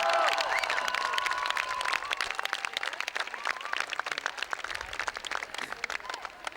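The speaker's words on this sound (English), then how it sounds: "Big round of applause, everyone." Audience applause and cheering at a Mandela Day event welcoming an Oxfam guest, a dense, steady wash of many hands clapping with whistles and cheers near the start, loud throughout and slowly easing off.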